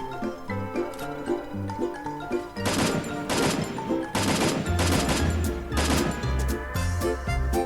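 M4A1 rifle fire in a video game: rapid bursts of automatic shots erupt in several clusters, loud and close, over steady background music.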